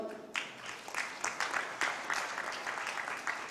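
Applause from the audience at the inaugural session of India Steel, a steady patter of claps that starts after a brief quiet moment and carries on at moderate loudness without a break.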